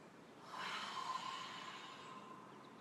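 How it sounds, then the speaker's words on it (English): A single long cleansing exhale during a morning yoga session, a soft breathy rush of air through the nose or mouth that swells and then fades slowly, close and quiet. "I'm going to take a cleansing breath."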